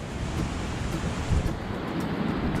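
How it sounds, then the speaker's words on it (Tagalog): Steady roar of strong wind gusting off open sea at a seaside resort after a strong storm, with surf rumbling underneath; continuous and loud, no voices. "Hangin sa dagat."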